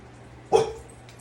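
A single sharp dog bark rings out near and loud in a home kitchen, alerting to someone at the front door, then fades into quiet.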